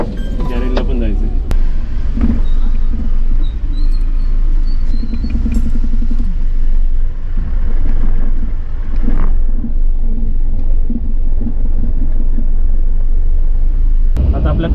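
A car driven along a road produces a steady low engine and road rumble throughout, with a person talking over it inside the vehicle.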